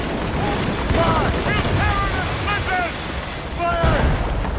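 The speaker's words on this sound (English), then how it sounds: "Man the cannon!" Ship cannons boom during a naval battle in the video game Assassin's Creed Rogue, heavy low blasts set in dense battle noise while voices shout commands throughout.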